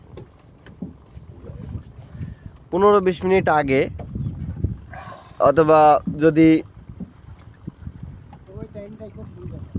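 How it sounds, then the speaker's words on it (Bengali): Water laps and splashes softly against a boat, a low continuous wash heard under a voice talking in bursts. "অনেক সুন্দর পানির একটা শব্দ আছে, ছলাৎ ছলাৎ একটা শব্দ আছে"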